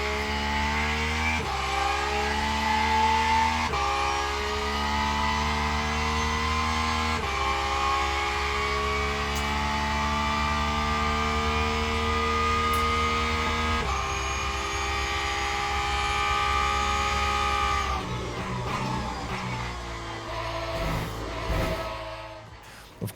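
Porsche GT3 R race car engine heard from the cockpit in the Le Mans Ultimate sim, a steady thin, whiny drone rising through several gear changes with brief shifts, loud and continuous without any talk.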